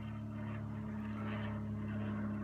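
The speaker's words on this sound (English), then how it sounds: "So now we've got a plane going over" A small aircraft passes overhead as a steady, fairly faint engine drone with a constant low hum that holds throughout, heard outdoors with no talking.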